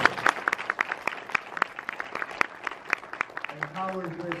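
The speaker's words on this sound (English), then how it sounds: "Big round of applause for Cami." Scattered claps from an audience at a conference, sparse and brisk rather than a full ovation, with a voice briefly speaking near the end.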